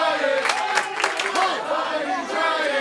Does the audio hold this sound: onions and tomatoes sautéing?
no